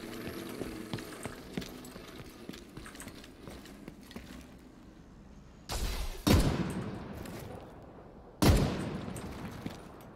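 Gunfire in the video game The Division 2: a few sharp, loud shots burst out over a rumbling bed of in-game background noise, with a trailing echo after each blast.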